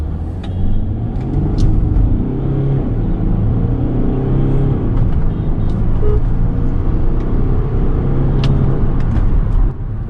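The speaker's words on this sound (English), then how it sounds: "Let's now do a quick 0 to 100 acceleration test." An older Mercedes car with a 2.8 litre V6 diesel accelerates hard from standstill to 100 km/h, its engine a loud, steady, close droning rumble that keeps building throughout, with no talking.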